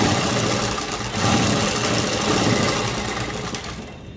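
A sewing machine stitches fabric with piping, running as a steady, continuous close-up whir with a slight rhythmic mechanical chatter for the whole stretch, no voices.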